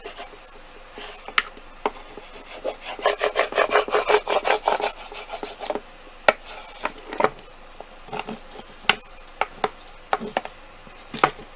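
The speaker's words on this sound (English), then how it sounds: "now I'm gonna use the back edge of my bone folder" Back edge of a bone folder rubbing and pressing glued paper down on a mixed-media cigar box project, heard as close, dry scraping strokes that bunch into a rapid run, then thin into scattered scuffs and taps.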